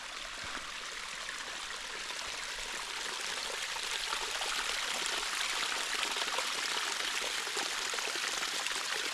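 Small stream of water trickling down a hillside on a clay hiking trail in the Canadian Rockies, a steady, soft wash of running water that holds even and close throughout, with no voices.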